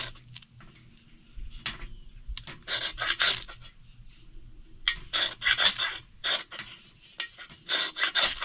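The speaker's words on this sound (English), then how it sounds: "I've got a new ferro rod here that I need to scrape the black coating off of before I use it" Dry rasping strokes of a blade scraping the black coating off a new ferro rod, coming in short bursts and longer clustered runs, close and moderately loud, with quiet gaps between.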